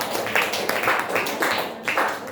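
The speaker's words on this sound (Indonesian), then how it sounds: "Tepuk tangan dulu untuk kelompok satu." A classroom group claps for group one, a short burst of rhythmic, fairly close handclaps lasting a couple of seconds.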